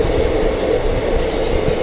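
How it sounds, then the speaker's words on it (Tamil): A goods freight train hauled by a WAG7 diesel locomotive rolls past on the Salem line near Virudhachalam, a loud, steady roar of wagons and wheels with faint rail squeal above it. "கூட்ஸ் ட்ரெயின் சூப்பராக இருக்குல்ல பார்க்குறக்கு"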